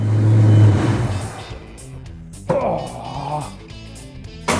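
A car engine idles and revs in a shop during an old-school string wheel alignment, loud at the start then settling to a steadier running drone with a couple of sharper bursts, with people talking nearby.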